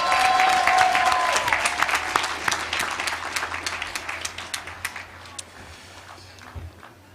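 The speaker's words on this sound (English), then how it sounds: "We may now applaud this graduate." At a graduate and professional university commencement, the audience applauds a graduate: loud, dense clapping that gradually thins to scattered individual claps and fades out over several seconds.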